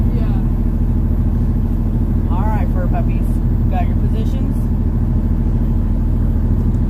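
A truck engine runs at a low, steady idle rumble, close and constant throughout, while a person speaks briefly over it.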